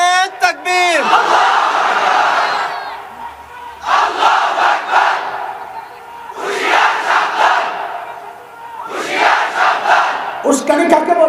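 A large crowd at a Bangladeshi religious gathering shouts in unison in answer to a Nara-e-Takbir call, four loud, sustained chant bursts with short pauses, beginning with a leader's call.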